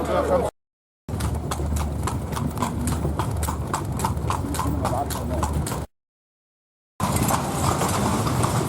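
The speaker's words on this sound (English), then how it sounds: "we're just organising the horse and cart" Steady, rhythmic clip-clop of a horse and cart's hooves on pavement in Edfu, Egypt, fairly close, with voices and street noise mixed in and a couple of brief dropouts.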